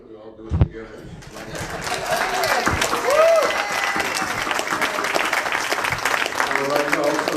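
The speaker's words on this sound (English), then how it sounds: "Since there's been such a desire very much to applaud for their candidates, why don't we all do it together?" A seated audience at a Los Angeles City Council District 10 candidates forum breaks into sustained applause for the candidates, clapping swelling after a brief start and continuing steadily, with some voices mixed in.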